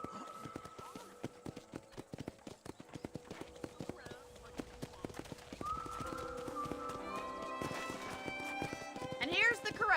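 Horse hooves clip-clop steadily on a ranch in Red Dead Redemption, a quick rhythmic run of close thuds with voices talking over them and a horse neighing near the end.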